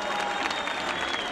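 Audience applause at a concert in Elazığ, a dense, steady clapping from a large crowd with a sustained tone underneath.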